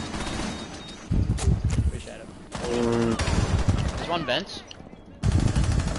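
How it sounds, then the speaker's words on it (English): Video game gunfire comes in bursts of rapid automatic shots, fairly loud, mixed with game effects and tones, while players talk over it. "I can't get to you without them shooting me."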